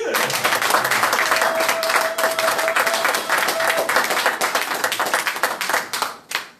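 A church congregation applauds the Lord with loud, steady clapping from many hands, continuing for several seconds before tapering off at the end.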